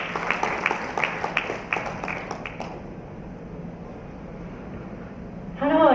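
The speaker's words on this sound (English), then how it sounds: "Please welcome her with a huge round of applause" Applause at a Shimadzu product launch welcoming a guest speaker to the stage comes as a burst of sharp, separate claps over the first few seconds, then fades into quieter room noise before a voice begins speaking.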